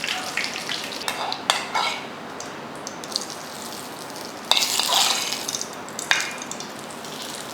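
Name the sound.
tempering mustard seeds, urad dal and curry leaves in hot oil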